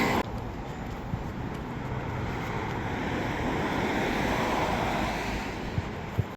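Waves wash steadily onto the Oregon coast near the world's smallest harbor, a continuous broad surf roar at moderate distance with wind buffeting the microphone.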